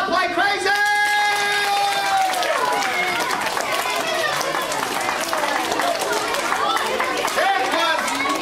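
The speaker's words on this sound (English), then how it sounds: "I can tell by the applause." A young crowd at a summer camp magic show claps and cheers steadily, the dense applause filling the whole stretch at close range, with some shouting and chatter mixed in.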